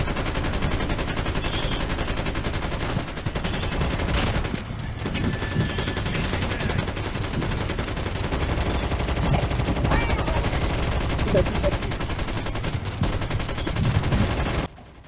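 RPD machine gun firing in Call of Duty Mobile zombies on hard mode, with sustained rapid bursts of automatic gunfire, loud and dense, joined by other game shots and explosions, with occasional talk underneath.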